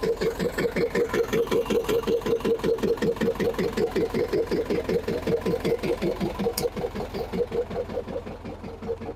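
A warm Zetor 6748 tractor engine idling, a loud, close, steady chugging beat with a slight knock, running evenly without pause.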